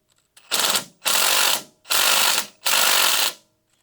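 Four loud, close ratchet bursts loosen a brake caliper bolt on a 1999 Ford Ranger's front brakes, each a rapid clicking run lasting under a second, separated by short pauses.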